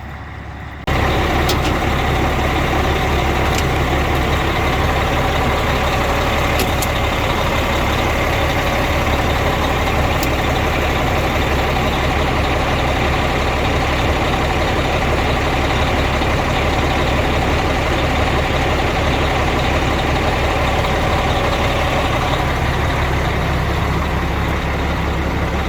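An old truck engine idles after a jump start, a loud, steady low rumble running unbroken for the whole stretch, with faint clicks on top and no talk.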